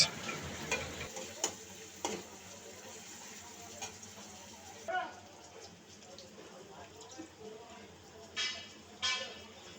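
Green chilies fried in hot oil in a pan for a tomato bhaji give a faint, steady sizzle, broken by occasional stirring scrapes and clicks, with quiet talk nearby.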